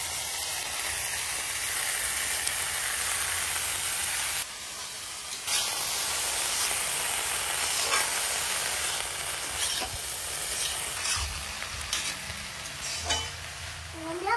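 Chopped, washed banana flower hisses and sizzles in a hot pan, a loud steady frying sound with a brief steam burst and scattered scraping stirs, close and continuous.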